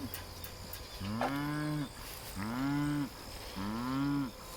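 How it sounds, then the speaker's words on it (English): A red cow moos three times in steady succession, each call long and drawn out, fairly close over a quiet outdoor farm background. "That's him right there, that red cow."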